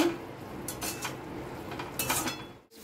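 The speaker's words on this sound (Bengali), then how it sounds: "এখন ক্যাপসিকামটা দিয়ে ভালো করে মিলিয়ে নেব।" Capsicum stirred into cooked meat in a pan, giving repeated scraping and clinking of a utensil against metal in short bursts, close and fairly quiet, with no talking.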